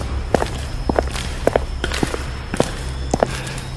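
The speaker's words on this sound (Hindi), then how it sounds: "तभी अचानक उसे अंधेरे में किसी के जूतों की चरमराहट सुनाई दी, जैसे कोई उसकी ओर बढ़ रहा हो।" Shoes creak and thud in slow, steady footsteps across a dark room, about ten paces in under four seconds, close and loud over a low background hum.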